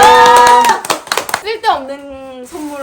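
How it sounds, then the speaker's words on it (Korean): A handful of quick, sharp hand claps break out during a couple's lively gift exchange at home, close and loud, mixed in with cheerful talking voices. "박수 박수 박수"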